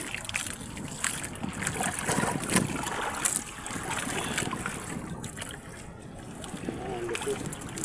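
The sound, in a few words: wind at sea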